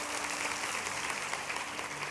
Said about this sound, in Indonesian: Kasih tepuk tangan untuk Tuhan karena dia hidup